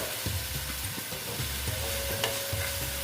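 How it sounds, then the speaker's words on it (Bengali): Spice masala sizzling and frying in a pan for a vegetarian potol (pointed gourd) curry, a steady soft hiss with occasional scraping stir strokes, fairly quiet and without talk. "দেখো একটু কষিয়ে নিচ্ছি মশলাটা"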